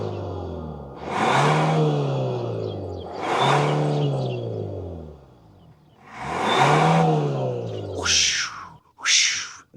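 A 2024 Hyundai Santa Fe with a 2.5-liter turbo engine revs three times in swelling, rising-and-falling bursts, followed by two short sharp whooshing blips near the end.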